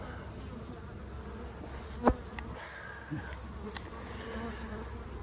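Honey bees at a hive in a cow pasture apiary drone in a steady, close buzz, with a sharp click and a few faint knocks over the hum and no talking.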